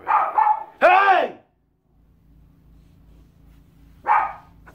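A dog lets out a few sharp barks close by, with quiet pauses between them and a low hum underneath.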